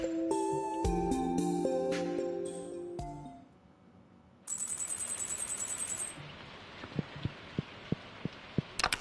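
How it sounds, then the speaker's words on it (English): Rain in the farming game Stardew Valley: a soft steady patter with scattered sharper drips, following chiming menu tones and a brief bright jingle, quiet overall. "Perfect rainy day."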